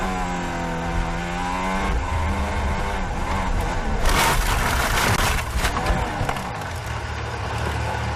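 A Formula 1 car from the 2019 season spinning and warming its tyres, its engine note rising and falling in loud revving sweeps, with a harsh burst of tyre noise partway through.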